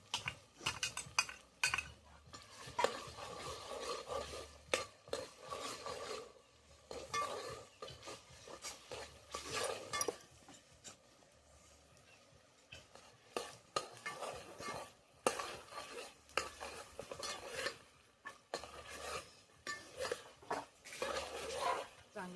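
Mutton curry with roasted onion paste being stirred in a pot over a village wood-fired chulha: repeated scraping, stirring strokes with light clinks of a metal spoon against the pot, steady and close, pausing briefly midway.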